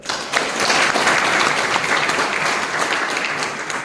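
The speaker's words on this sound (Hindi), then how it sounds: "जिसके लिए जोड़ा ताली बजा सकते हैं आप" Audience applause at a village business training seminar, a dense, steady wash of many hands clapping that holds at full strength for about four seconds with no voices over it.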